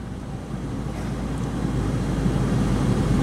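A 2009 Smart Car Passion Coupe cruising at about 55 miles per hour, heard from inside as a steady low road and engine rumble with wind noise that grows slightly louder, and no talking.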